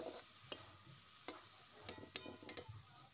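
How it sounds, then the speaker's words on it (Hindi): A spatula stirs green pea curry with onion in a pan, giving a few sharp, scattered scrapes and taps over a quiet, faint background. "अब इसको भी हम मिक्स कर लेंगे पलटे की हेल्प से अच्छे से मिक्स करेंगे"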